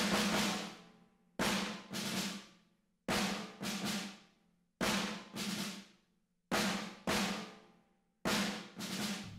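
Ambient room track of a snare drum from Superior Drummer 3 on an industrial rock kit: five pairs of loud, roomy snare hits with long decaying reverb tails, evenly spaced and heard alone.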